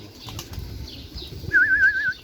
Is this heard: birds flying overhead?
yes